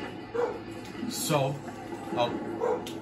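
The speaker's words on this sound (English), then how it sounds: "dog is barking. I don't know if you hear dog barking." A dog barks a few times in the distance while someone talks over a video game.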